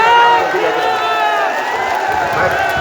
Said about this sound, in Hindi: तो एक बार हाथ उठाकर तालियां बजा दीजिए।